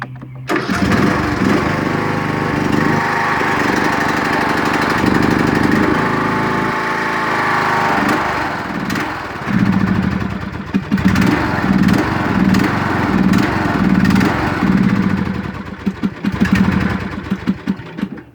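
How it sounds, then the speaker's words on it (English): A Troy-Bilt riding lawn mower engine, set on choke after starting, runs loud and close with a steady drone, then settles into a rhythmic, slightly uneven chugging, with no talk over it. "I've got this up to choke just for starting it."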